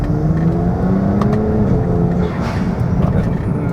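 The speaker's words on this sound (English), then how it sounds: "so we'll go ahead and test drive it" A BMW 335i with the N54 engine pulls away on a test drive after walnut blasting, its engine note rising and holding as it accelerates, loud and close under steady road noise.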